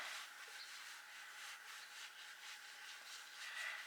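Oxidized paint on an old Ford truck is rubbed by hand in a steady back-and-forth motion, giving soft, rhythmic hissing swipes that are close but quiet, with no speech.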